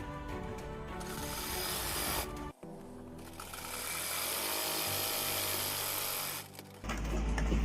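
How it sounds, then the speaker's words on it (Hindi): A sewing machine stitching the side seam of a baby top runs in a close, continuous mechanical whir, stopping briefly once before starting again, with no voice over it. "तो ये देखिए एक तरफ मैंने अपनी फिटिंग में सिलाई लगा ली है"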